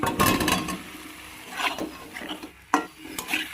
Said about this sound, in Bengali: এবার আমি দিয়ে দেবো আলুগুলোকে।